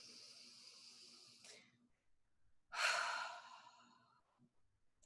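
A slow, deep inhale and then a strong, airy exhale during a tapping exercise, close and breathy with quiet gaps around it and no talking.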